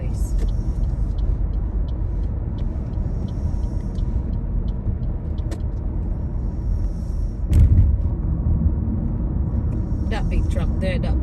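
A truck drives along a road in an industrial area by the Swan River in Western Australia, a continuous low rumble mixed with wind noise that swells briefly as it passes close.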